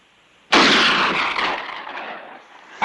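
A single loud gunshot blast in a western TV series, a sharp onset followed by a long rumbling echo that slowly fades, with no talking.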